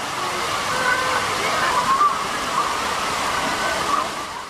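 Water from a city fountain splashes and rushes in a steady, loud, continuous wash, close by and unbroken, with no voices over it.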